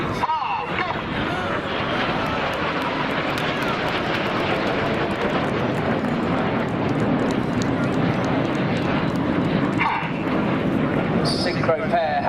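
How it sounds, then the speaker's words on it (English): Red Arrows jets making a low, fast pass at the Blackpool airshow, a steady loud roar of engines lasting throughout, with an announcer talking over it. "The closing speed of these aircraft is now 800 miles an hour."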